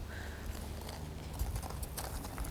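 A ridden horse walking on ground during a riding lesson, a faint irregular clip-clop of hooves under steady background noise, mid-distance.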